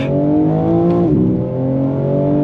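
A 2022 BMW M4 Competition pulls hard on throttle, its engine droning loud and close in a rising, harmonic-rich tone with a brief dip near the middle before climbing on steadily.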